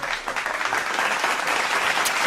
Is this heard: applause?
yes